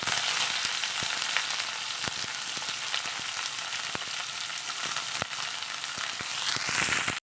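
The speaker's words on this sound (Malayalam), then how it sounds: "വേപ്പില ഇട്ട് കൊടുക്കാം, ചെറിയ ഉള്ളി കുറച്ച് ഇട്ട് കൊടുക്കാം," Curry leaves and shallots frying in coconut oil: a loud continuous sizzle close by, with sharp sputtering pops scattered irregularly through it, ending abruptly.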